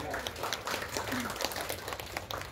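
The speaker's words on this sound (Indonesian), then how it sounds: "tepuk tangan untuk keluarga" Faint, scattered applause at a hospital staff gathering in Indonesia, with the clapping sounding distant and soft against low room noise.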